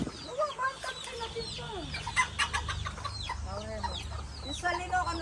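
Bantam chickens cluck and chatter close by in a busy flock, with overlapping squawks and calls across the whole stretch.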